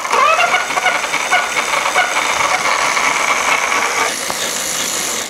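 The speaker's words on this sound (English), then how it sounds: "When you turn on the motor to the electric mode, the motor here starts to kick in." Motor of an electric bike conversion with a lithium-ion battery, running in electric mode, a steady, close mechanical whir with a rattling, buzzing texture that holds level for about five seconds.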